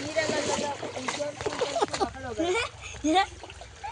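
People wade and splash through water outdoors, with uneven sloshes and splatters close by while several voices talk over them throughout.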